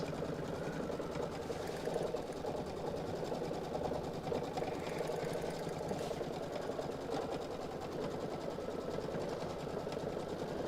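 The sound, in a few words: Brother Solaris Vision sewing machine quilting a border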